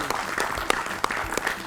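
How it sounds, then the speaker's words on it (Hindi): Short burst of applause from a group of schoolchildren in a classroom quiz, brisk overlapping claps at a moderate level, continuous throughout. "तालियां।"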